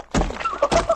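In the video game Ark Survival Evolved, an arrow is shot at a dodo: two quick dull thunks land in close succession, followed by a short bird-like squawk, with no talk.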